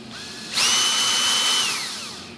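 A power drill fitted with a bit spins up to drill a hole in a piece of wood. It gives a single close, high whine lasting about a second and then winds down, with no voices.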